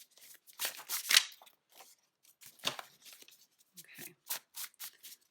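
Tarot cards are shuffled by hand in bursts of crisp riffling and sliding, several short flurries separated by pauses, close up, with a brief spoken word.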